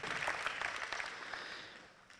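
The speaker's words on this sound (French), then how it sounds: "vous pouvez les applaudir parce qu'ils ont donné du temps pour ce travail" An audience at a town's New Year greetings ceremony applauds volunteers, a short burst of moderate clapping that fades quickly.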